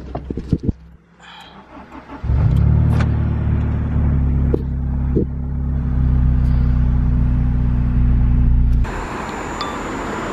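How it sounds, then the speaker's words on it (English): A few clicks and clunks, then a Honda S2000 engine cranks and catches, settling into a loud steady idle for several seconds before cutting off abruptly. "let's start this car up."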